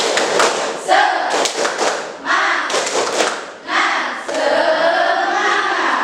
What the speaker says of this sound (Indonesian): Tepuk semangatnya. Tepuk semangat.